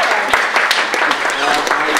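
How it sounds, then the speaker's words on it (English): An audience applauds at the opening of an art exhibition in a gallery, a dense, loud, continuous patter of clapping from a crowd filling the short moment. "So give him a little round of applause and welcome him."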